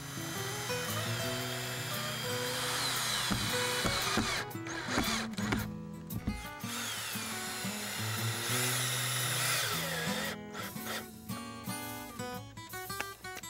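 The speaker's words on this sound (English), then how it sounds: "First, clamping the panel, then screwing it in place." A power drill drives screws into a lattice panel on a garden arbor: sustained whirring runs with short pauses and bursts, and a second set of drilling follows after a brief gap.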